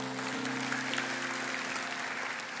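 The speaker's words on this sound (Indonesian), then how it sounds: "Yang percaya, kasih tepuk tangan yang paling meriah Allah kita" A church congregation gives its most enthusiastic applause to God during a sermon. Steady, even clapping from a crowd is heard throughout but stays faint and distant, over a low sustained hum.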